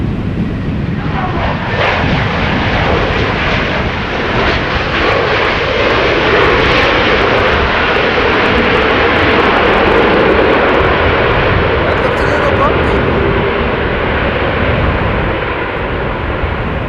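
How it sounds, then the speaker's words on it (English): A 20-year-old Airbus A321 airliner arriving at Amsterdam Schiphol in breezy weather after a storm produces a loud, steady engine roar that holds for the whole stretch, with no talking. "flight 7822 arriving from Istanbul, A321"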